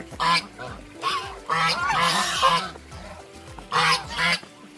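Loud, raucous quacking and honking from several ducks nearby, in repeated bursts with short pauses between.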